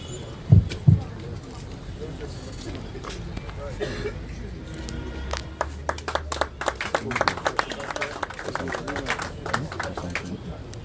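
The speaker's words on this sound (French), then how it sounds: "Applaudissons une fois de plus, s'il vous plaît." Scattered clapping from an audience at a Cameroonian land transport unions' support ceremony with a minister present, thin at first and then building into irregular applause over the last half, with low background murmur.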